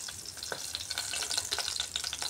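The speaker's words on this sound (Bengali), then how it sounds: "এইভাবে কড়া করে মাছগুলো ভেজে নিয়েছি।" Rohu fish pieces fry crisply in hot oil, a dense, close sizzle with rapid crackling pops throughout, unbroken and with no voices.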